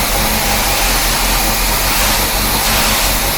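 A 1976 Corvette C3 fitted with a new power steering pump runs steadily close up, its engine holding a loud, even idle with a deep, rhythmic rumble and no talk over it.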